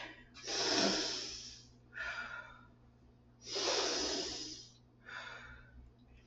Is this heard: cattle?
no